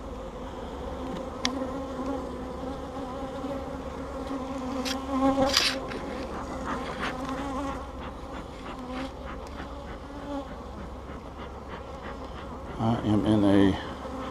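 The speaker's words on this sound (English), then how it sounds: "tornado of mad bees right now." A dense, loud buzzing of an angry swarm of honey bees during a hive inspection surrounds the microphone continuously, with someone speaking briefly partway through and louder buzzing bursts near the end.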